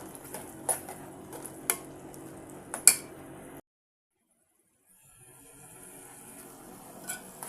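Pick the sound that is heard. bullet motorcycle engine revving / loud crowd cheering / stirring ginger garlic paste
stirring ginger garlic paste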